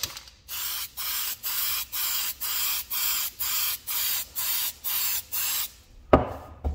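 Ten short bursts of an aerosol can of filler primer hiss in an even rhythm onto a 3D print, each about half a second long, close by and otherwise quiet, followed by a brief clatter.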